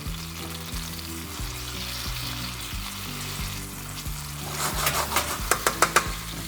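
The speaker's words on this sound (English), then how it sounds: "back to the tomatoes, just give them a little stir" Tomatoes frying in a pan while being stirred, a bright continuous sizzle with low background hum, building to a burst of quick scraping clicks toward the end.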